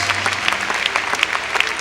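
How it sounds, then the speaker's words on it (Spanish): A church congregation claps together in a dense, continuous round of applause, close and lively, filling the whole moment without speech. "Dele palmas al Señor"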